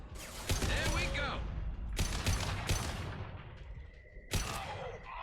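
Gunfire in Mass Effect 2 during a headshot kill: several sharp, loud shots in separate bursts with echoing tails, over a busy combat background.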